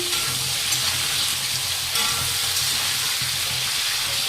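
Potatoes frying in oil in a pan, cooked after eggplant slices, giving a steady, loud, close sizzling hiss with faint stirring scrapes now and then.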